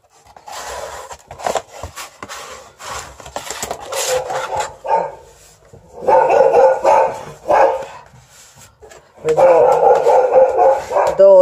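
A female dog barks loudly and repeatedly at someone in the street, rapid bursts of barking in three clusters with brief pauses, close and dominant over the room.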